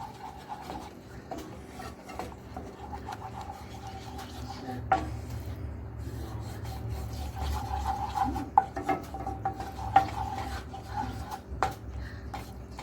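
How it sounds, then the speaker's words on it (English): Flour being stirred into butter in a bowl a spoonful at a time, a steady soft scraping and rubbing with occasional utensil taps against the bowl, close and continuous, no talk. "Mix it all in there so it thickens up."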